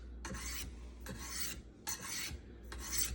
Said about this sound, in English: Do you recommend them start with this carbide knife sharpening tool?